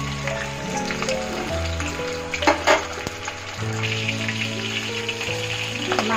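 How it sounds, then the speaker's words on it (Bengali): Large pieces of boal fish fry in hot oil with a steady crackling sizzle, close and fairly loud, with a few sharper pops and clinks partway through. "প্রথমে এই বড় মাছের পিসটাই ভেজে নেব।"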